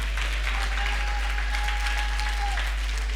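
A congregation at a Sunday church service claps together in steady applause, with a low constant hum and a faint sustained tone underneath.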